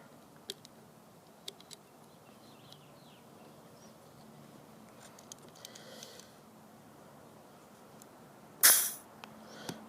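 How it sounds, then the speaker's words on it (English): A CO2 cartridge releases pressure inside a Dan Wesson BB gun with one short, sharp hiss near the end, after quiet scattered small clicks and handling ticks, close by. "So there you heard the CO2, the pressure release"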